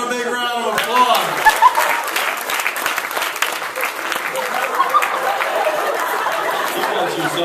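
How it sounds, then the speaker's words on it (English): Loud audience applause fills the room, steady clapping with scattered chatter and chuckles mixed in throughout. "Give them a big round of applause."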